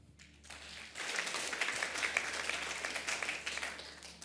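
Applause from a church congregation at a revival service swells in after a brief pause and carries on as a dense, steady clatter of many hands until the end.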